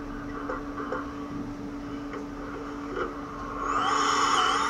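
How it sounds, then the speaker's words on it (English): A vacuum cleaner hums quietly and steadily in a point-and-click video game, then swells into a louder, higher whine near the end. "Oh no, a vacuum!"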